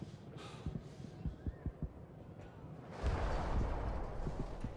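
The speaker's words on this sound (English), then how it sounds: "I hear gunfire." Gunfire sounds in the video game Amnesia: A Machine for Pigs, a series of distant sharp thuds in an irregular run that gives way to a louder rumbling burst.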